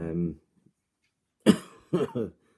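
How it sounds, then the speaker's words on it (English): One person coughs twice in quick succession after a short vocal sound, close to the microphone with silence between. "sorry, still coughing"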